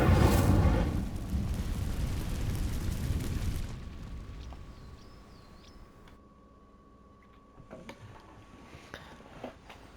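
A loud burst of fire bursts up at the start as the Incendio spell sets dry vines alight in Hogwarts Legacy, then dies back to a crackling burn. Faint magical tones and small pops follow over a quieter bed.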